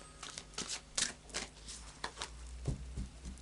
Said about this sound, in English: just another couple of shuffles